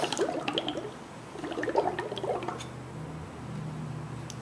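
Bubbles blown through a straw into a glass of chocolate milk gurgle and pop in bursts, wet bubbling clusters separated by short pauses, close and fairly quiet with no talking.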